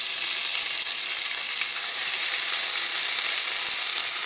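Chopped onion and green chilli frying in hot oil with spices for a vegetable korma, a loud, close, continuous hiss of sizzling with faint stirring, no voices.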